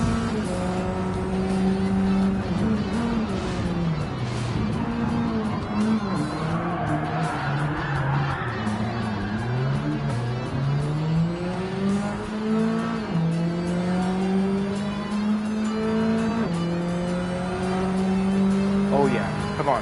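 A race car engine in Gran Turismo 7 revs hard against its rev limiter at about 7,000 RPM, with a rising and bouncing engine note, tire squeal and skidding throughout, loud and steady under a man's speech.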